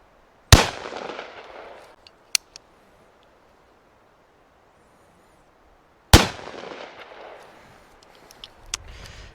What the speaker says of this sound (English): let's try the buckshot at this range.